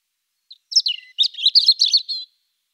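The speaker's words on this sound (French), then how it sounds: "Aujourd'hui, le rouge-gorge familier." A European robin in Paris sings a short, bright phrase of high, thin warbling notes and trills, close and clear against silence, lasting under two seconds.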